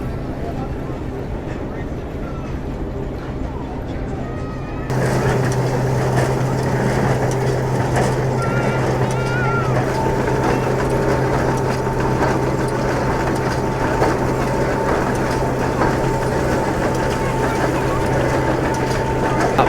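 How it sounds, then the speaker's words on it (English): Steady mechanical drone of a steam engine driving a straw baling machine at an outdoor ploughing match and show, a constant low hum that grows louder partway through, continuous and close. "we've got a steam engine driving it"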